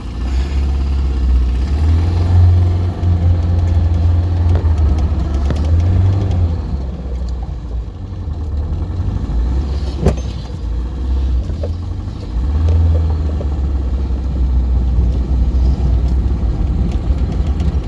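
A 1972 Fiat 850 Sport convertible, a barn find sitting 22 years, driven on a gravelly downhill road; its small engine hums and swells in loud, uneven surges with rattles and bumps, close-up and without talk.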